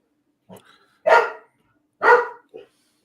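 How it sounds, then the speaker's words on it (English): Dogs bark at home, a few sharp, separate barks, two louder ones in the middle with smaller yips before and after, heard alone against quiet. "My dogs were barking."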